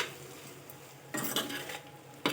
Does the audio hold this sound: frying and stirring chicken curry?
yes